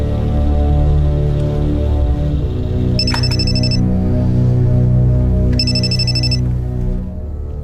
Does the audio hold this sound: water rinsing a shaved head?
no